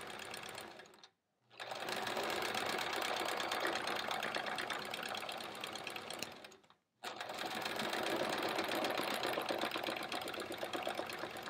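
A sewing machine stitches free-motion quilting through thick, puffy quilt-as-you-go layers with fusible, a rapid close whir that runs steadily, stops briefly twice and starts again.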